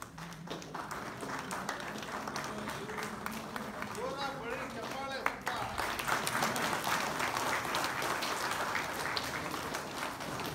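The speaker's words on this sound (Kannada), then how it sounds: "ಮತ್ತೊಂದು ಚಪ್ಪಾಳೆ ಪ್ರದೀಪ್ ಅವರಿಗೆ" Applause from an audience at a Mysuru singing festival, honouring a guitarist during artist introductions; steady crowd clapping fills the whole stretch, with a voice speaking over it.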